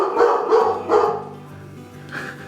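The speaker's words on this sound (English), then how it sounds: "Hey, what are you barking for?" A dog barks in a short run of loud, close yips and woofs, then a quieter bark near the end, with no talk over it.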